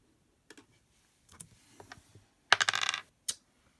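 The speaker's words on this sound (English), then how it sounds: "we're going to be rolling every number on the 8-sided dice" A classic eight-sided die is rolled several times: scattered light clicks and taps, then a dense clattering burst as it tumbles across a hard surface and a final sharp knock, close and clear without speech.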